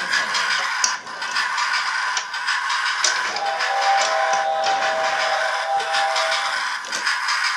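A toy train whistle sounds steadily with a hissing, steam-like tone, continuous and fairly loud throughout, with small clicks and no voices.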